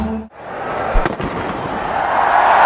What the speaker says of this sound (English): Got fireworks in the background.